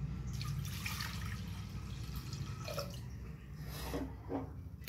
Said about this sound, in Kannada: ನೀರು ಹಾಕ್ಕೋತೀನಿ ಅದಕ್ಕೆ